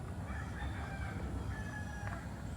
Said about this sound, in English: chicken and rooster sighting